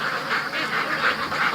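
Ducks in a pen quacking in agitation, a quick run of rhythmic, nasal calls repeating close by.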